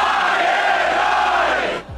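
Illinois basketball fans packed into a Boston bar roar in a loud, sustained crowd chant that holds steady, then cuts off abruptly near the end.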